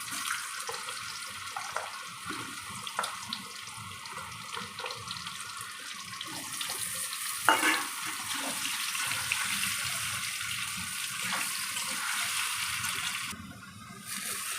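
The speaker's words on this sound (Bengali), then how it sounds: "এই তেলের মধ্যেই আলুটাকে ভেজে নেব একটু ভালো করে লাল করে।" Potatoes fry in oil with a steady sizzling hiss that stays fairly quiet and constant, brightening partway through, with a few light clatters of utensils.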